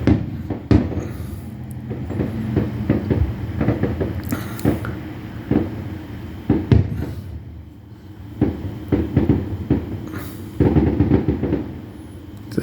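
A 3rd of July fireworks show heard from a front porch: scattered, fairly distant booms and crackles arrive at irregular intervals over a steady outdoor background, with a denser cluster of bursts near the end.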